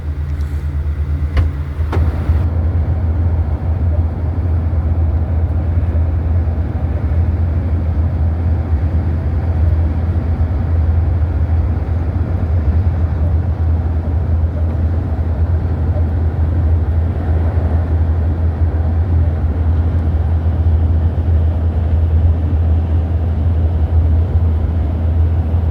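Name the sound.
inside an air-conditioned recovery vehicle cab while driving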